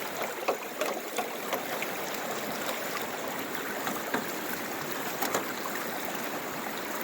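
Water washes steadily over the riffles of a sluice box during gold prospecting. It makes a continuous close rush with small splashes and gurgles throughout, and no voices.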